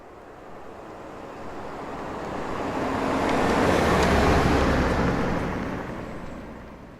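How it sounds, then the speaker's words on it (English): A designed sound of a car driving along a road: a broad, smooth whoosh of engine and tyre roar that swells up, peaks midway and fades back out as the car passes, alone with no voices. "the first thing we've got is a sound of a car on the road"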